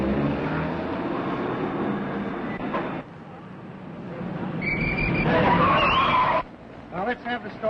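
A 1938 radio drama car chase has a taxi engine roaring under loud tire skids and squeals, with rumbling motor noise and sharp screeching bursts near the end, all mixed with the sound of a busy road.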